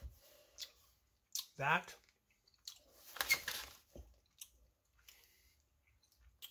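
Hi-Chew candy with a crunchy center being chewed close to the mic, wet squishy bites and clicks coming in short bursts between pauses, with brief talk.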